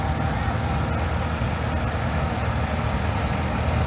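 A 1953 Case SC four-cylinder tractor idles and chugs at a threshing bee parade, a steady low engine rumble that runs loud and unbroken from start to end.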